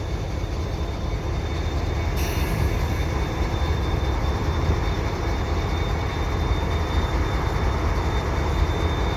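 A CSX freight train hauled by SD40-2 locomotives arriving at Dorval, with a loud, steady rolling rumble of cars passing close by and a thin high whine running throughout.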